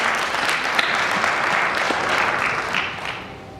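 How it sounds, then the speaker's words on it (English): Brief, dense audience clapping at a dance recital, steady and moderately close, fading slightly as it ends. "I'd like to give them a round of applause as well."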